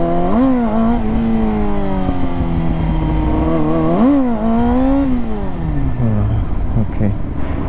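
A motorcycle engine revs loud and close, pitch rising and falling through repeated throttle blips as the rider feeds more gas while working the clutch, with the note sagging toward the end.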